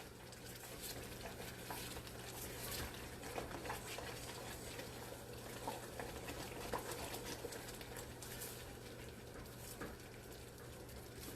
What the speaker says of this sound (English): once it starts boiling like this